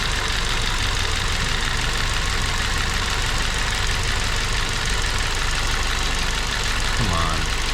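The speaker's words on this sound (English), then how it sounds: "So let's give it some RPM now again." A 2006 Ford Focus with a Z4X P0193 fault drones with a steady, loud engine note as it is held at raised RPM, a continuous dense roar with a brief pitch shift near the end.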